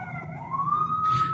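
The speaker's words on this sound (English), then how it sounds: "I just heard an ambulance siren" An emergency siren in Singapore wails steadily, its pitch gliding slowly upward and holding, heard at moderate distance with a faint rush of noise near the end.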